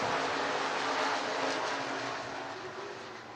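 IMCA race cars roaring off under green flag at Boone Speedway in Boone, Iowa, a broad engine wash from the pack that swells loud early then slowly fades as the field moves away.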